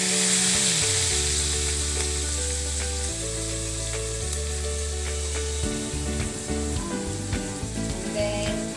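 Soy sauce hits a hot frying pan of leftover ingredients with chili flakes and sizzles loudly and steadily, with stirring scrapes and a low background hum and no talk.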